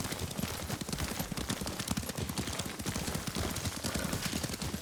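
Horse hooves clip-clop in a quick, steady rhythm as a rider travels in Ghost of Tsushima, the footfalls close and prominent over a noisy outdoor backdrop.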